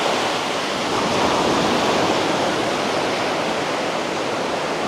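Steady, dense rush of Atlantic surf at a beach on the south coast of Spain near the Portuguese border, a continuous broadband wash with no distinct individual breakers, loud and close, no voices.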